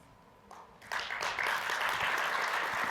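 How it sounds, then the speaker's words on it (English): Applause from a conference audience after a presentation, starting with a few scattered claps and swelling into steady, fairly distant clapping from the crowd. "actually, another round of applause for Josh"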